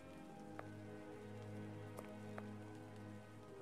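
Steady rain falls and patters on surfaces in the PC adventure game Sherlock Holmes jagt Arsène Lupin, a continuous even wash with a few brief drip-like ticks.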